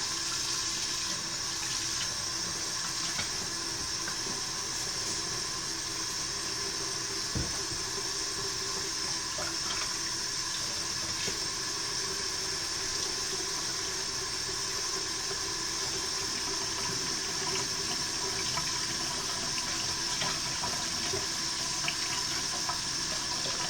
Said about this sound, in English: Gotta wash my knife so I can cut the pizza.